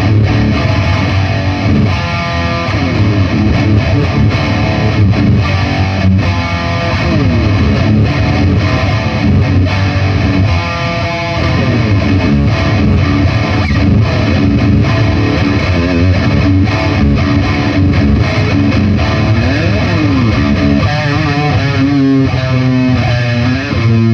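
Jackson Custom Rhoads Concorde electric guitar played through an echo effect, loud distorted riffs and sustained notes with repeating echoes running continuously without a break.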